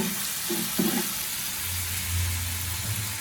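Onions and tomatoes fry in a pan for a dried vanjaram fish thokku, with a steady broadband sizzle, a couple of stirring scrapes early on and a low hum underneath.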